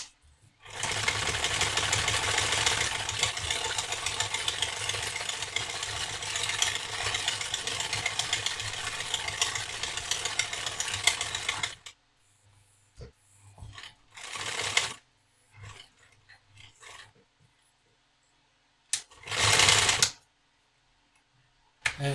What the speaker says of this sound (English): I'm going to do a zigzag seam next to it, a shy of it, on the inside to help with strength.